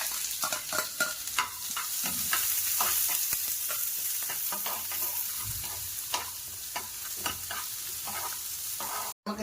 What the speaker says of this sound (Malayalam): അതിന് ഇച്ചിരി ഉള്ളിയും ഇഞ്ചിയും കൂടി ഇട്ട് വഴറ്റുകയാണ്